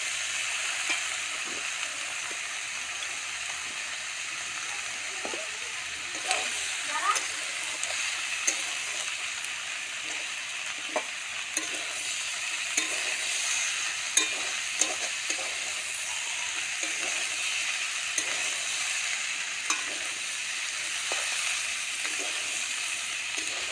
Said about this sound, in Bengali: ডিম বেশি ভাজবো না।